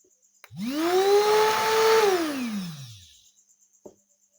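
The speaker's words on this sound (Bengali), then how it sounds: "তো এখন আমি মোটরটা আপনাদেরকে চালিয়ে দেখাই।" A homemade drill machine motor spins up fast, holding a steady high-pitched whine for about two seconds before winding down, with a faint click afterward and no talking.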